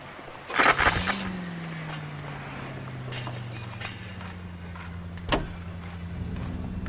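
A car in L.A. Noire starts up and settles into a steady, low humming engine drone, with a couple of sharp door-like clunks, one at the start and another partway through.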